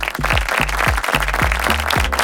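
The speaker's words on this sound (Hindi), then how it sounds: "सभी टीम से अनुरोध करूंगी इनके लिए जोरदार तालियां बजाइए" At a Bible quiz, an audience applauds the finalists with brisk, continuous clapping, close and loud, while low periodic thumps pulse underneath.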